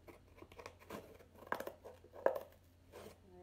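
Scissors cut through cardboard in a quiet room, a few scattered crunching snips and crinkly rasps at irregular intervals, faint and close.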